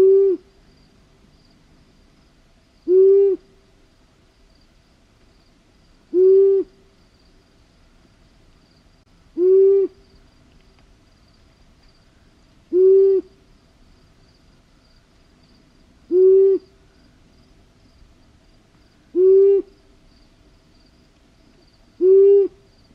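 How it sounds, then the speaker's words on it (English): A deep owl hoot repeats eight times at steady intervals of about three seconds, clear and prominent over a quiet background with faint insects. "more of the classic owl sound, right? The hooting sound that we know."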